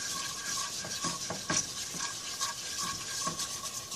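A flour roux is stirred in a pan for homemade macaroni and cheese, a soft continuous scraping with a gentle sizzle underneath and light rhythmic strokes, quiet and close, with no talking.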